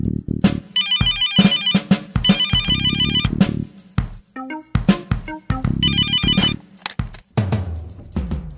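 A telephone rings repeatedly in a Haitian film scene, a loud electronic ringtone in regular bursts that sounds close and carries over other sharp noises.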